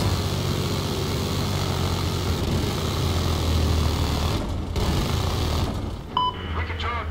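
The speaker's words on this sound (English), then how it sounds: "And there's the enemy helicopter." An enemy helicopter in Battlefield 4 Mobile on the Zavod 311 map makes a loud, steady rotor and engine drone that fills the whole stretch, dipping briefly near the end amid other game sounds.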